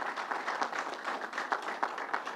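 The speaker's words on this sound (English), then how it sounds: "let's give them a round of applause." A round of applause breaks out at a public event at Belmont Park for the Islanders: a steady crowd clapping with dense, overlapping hand claps at moderate, fairly distant volume and no pauses.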